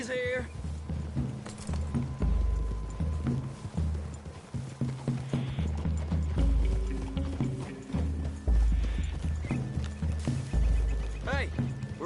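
Horses ride through trees in Red Dead Redemption 2, hooves clopping steadily with an occasional whinny and creaking tack, while characters talk over the ride.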